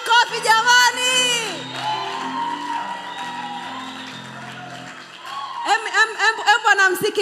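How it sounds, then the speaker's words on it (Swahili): A church congregation whoops, shouts and cheers loudly in a lively burst, with clapping mixed into the crowd noise and singing voices rising again near the end. "Mpigieni Yesu makofi jamani."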